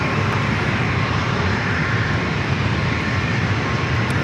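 An Airbus A321neo jet taking off at San Diego airport, a loud continuous engine roar that stays steady and dense across the whole stretch with no talk.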